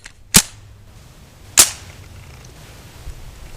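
A TSD/UHC gas airsoft revolver's cylinder is pressed back into the gun, giving two sharp, close clicks about a second apart, followed by a fainter tap near the end.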